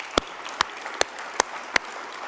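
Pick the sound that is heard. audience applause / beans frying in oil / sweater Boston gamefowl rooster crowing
audience applause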